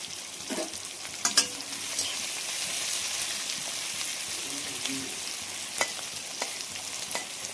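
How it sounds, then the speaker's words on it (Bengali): Food fries in a pan, giving a close, continuous sizzle with occasional sharp clinks and scrapes as it is stirred and turned. "এটাকে তুলে দিয়ে দিলাম, ছেড়ে দিলাম, একটু ভাজা হোক ততক্ষণ।"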